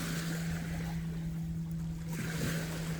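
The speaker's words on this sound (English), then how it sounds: "I don't know if you can hear me well over the waves on the shore" Steady broadband wash of surf rolling in on the shore near bluffs, continuous and fairly loud, with a constant low hum running underneath and no voices.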